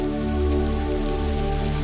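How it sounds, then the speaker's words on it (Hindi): Steady light rain patters on a surface, a soft continuous hiss with a low hum underneath, no voices. "उसके 2 दिन के बाद हल्का सा बारिश आ जाता है"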